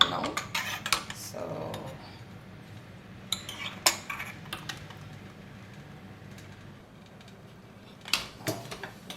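Metal idli racks clatter and clink as they are stacked into a pressure cooker for steaming rava idli, with several sharp bursts of clinking spread across the clip between quieter stretches.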